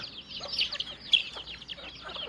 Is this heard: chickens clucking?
yes